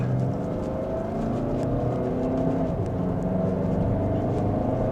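A 2026 Audi Q3 F-Line in dynamic mode pulls away gently in second gear, a steady engine hum and drone heard from inside the cabin, even and unbroken, with no talk.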